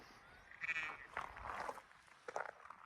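Sheep bleat among the mountains of the Scottish Highlands along the West Highland Way, several faint, distant calls overlapping in quick succession over quiet outdoor air.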